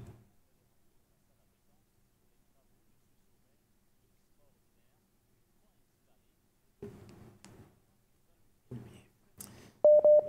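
A telephone line's busy tone sounds during a phone-in with connection problems on a talk programme. After long near-silence and some faint speech, a short, loud steady tone arrives at the very end.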